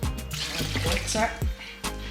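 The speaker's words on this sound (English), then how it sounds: "Add water" Water poured from a tap into a pot of carrot soup with Scotch pepper and ginger, a close splashing, gurgling flow that starts and stops in short bursts.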